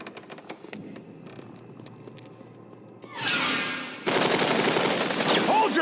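Automatic gunfire bursts out in the Batman Arkham Origins video game, a sudden loud burst after a quieter stretch of game ambience, then a second dense, sustained volley of rapid shots to the end.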